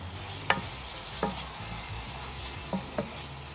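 Grated carrots frying in a pan with oil, turmeric and onion, stirred now and then: a low steady sizzle under several sharp scrapes and clicks of a utensil against the pan, spaced irregularly, with no talking.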